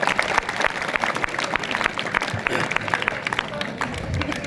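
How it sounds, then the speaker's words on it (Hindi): An audience in a lecture hall breaks into loud, sustained applause, dense overlapping claps with a crowd murmur underneath, holding steady throughout. "एक बार उसके लिए जोरदार तालियां हो जाए।"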